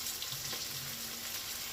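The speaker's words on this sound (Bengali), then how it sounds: "এবার এই আদা রসুনটা খুব ভালো করে ভেজে নেব" Ginger-garlic paste fries in a pan with a soft, steady sizzle and hiss that continues evenly throughout, quiet and unbroken.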